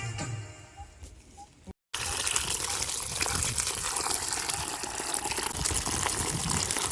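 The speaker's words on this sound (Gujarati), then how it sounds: "અહીંયા શેરણામાં પાણી ચાલુ છે" Water rushes steadily along a farm irrigation channel in a vegetable field, a continuous broad gushing that grows louder after a short gap and carries on alone.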